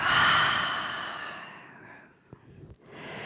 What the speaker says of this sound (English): take the breath through the nostrils all the way down into your belly this time. And then exhale, let it go.